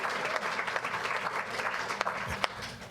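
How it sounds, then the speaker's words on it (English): Applause at a school board meeting, a sustained round of clapping from a modest crowd, fairly close and even, with a few sharper individual claps near the end. "We can give her a round of applause for that"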